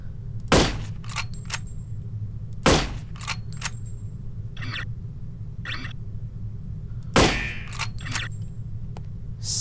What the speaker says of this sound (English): So I got this carbine with a sniper scope.